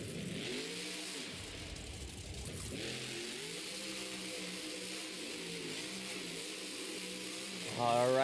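A monster truck engine at a Monster Jam stadium show in Oakland, rumbling and revving in repeated surges at moderate distance, rising louder at the end, with an announcer's voice heard over it.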